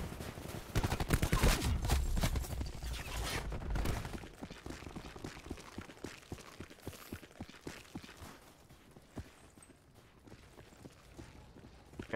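Rapid bursts of gunfire crackle through a Call of Duty Black Ops 4 multiplayer match, dense and loud for the first few seconds, then thinning into scattered shots and mechanical clicks.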